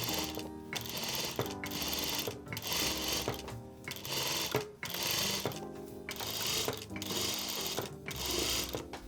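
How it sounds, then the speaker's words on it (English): A pedal or industrial sewing machine stitches a hem through a Wayken hem folder, its needle running in rapid rhythmic bursts with short pauses between runs, loud and close with a mechanical whir and no talk. "So this is so much easier to sew with this hem folder rather than folding manually with your hands."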